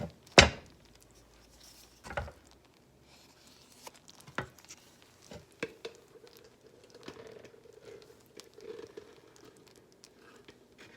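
A spoon stirring peanut butter into hot fudge mixture just off the heat, with soft sticky scraping and a few sharp knocks against the pot, fairly quiet and intermittent.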